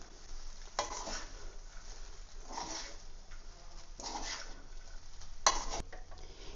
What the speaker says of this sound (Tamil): இப்போ இதை நல்லா மிக்ஸ் பண்ணி விடுவோம்